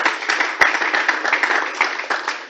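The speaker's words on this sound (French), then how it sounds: "On applaudit une fois pour elle," Brief applause from a conference audience, fairly close with uneven bursts of individual claps and one sharp loud clap early on, no speech over it.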